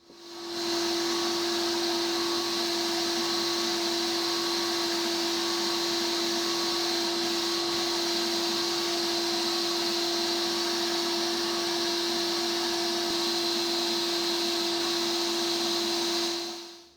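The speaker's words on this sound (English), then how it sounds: "So I'm going to get started with the first stage of the blasting." Sandblaster spraying abrasive against a glass mirror to etch a relief pattern, a constant loud hiss with a steady tonal hum underneath, holding evenly throughout without pauses or speech.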